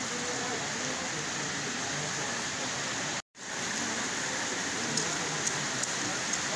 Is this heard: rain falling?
yes